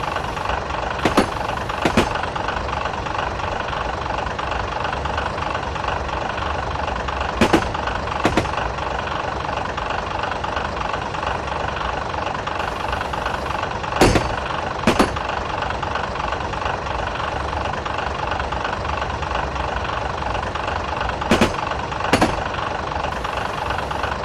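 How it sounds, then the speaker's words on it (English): Train Simulator 2015 locomotive descending a steeper forest-railway gradient near Sawakokawa with brakes applied: a steady, loud engine drone runs throughout, broken by several brief sharp bursts, likely brake or air releases, spaced every few seconds. "And now we're starting to go downhill again on a steeper gradient. So I'm now applying the brakes once again."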